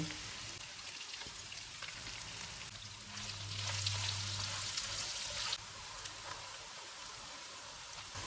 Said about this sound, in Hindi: 2 प्याज डालेंगे, इनको गोल्डन फ्राई करेंगे।